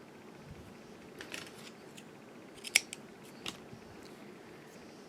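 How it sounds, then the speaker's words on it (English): Scissors snip crochet yarn in a quiet room, a few soft cuts with one sharper, distinct snip near the middle, close and faint, no talking. "So I'm just going to go ahead and trim from where I am."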